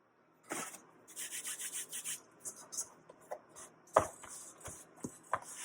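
Hands kneading bread dough for an everyday loaf, a steady run of soft rubbing, pressing and slapping strokes close by, with a couple of sharper thumps toward the end.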